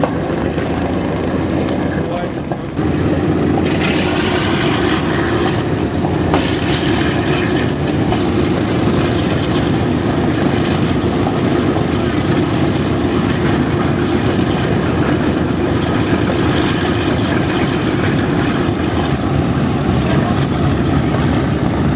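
A real Boeing B-17 World War II bomber passes overhead, its piston engines making a loud, continuous, rumbling roar that fills the whole stretch without letting up.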